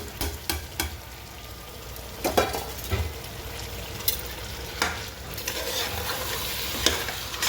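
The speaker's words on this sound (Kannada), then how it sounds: "ಆಲೂಗಡ್ಡೆ ಈರುಳ್ಳಿ ಆಲೂಗಡ್ಡೆ ಆಮೇಲೆ ಬಟಾಣಿ ಕಾಳು ಕ್ಯಾರೆಟ್ ಸ್ವಲ್ಪ ಫ್ರೈ ಆದ ತಕ್ಷಣವೇ ಟೊಮೊಟೊ ಹಾಕ್ಕೊಂಡು ಬಿಡಬೇಕು" Potato, onion, peas and carrot fry with tomato in a pan for tomato bath, a steady sizzle under sharp clinks and scrapes of a spoon stirring at irregular intervals, close up and without talk.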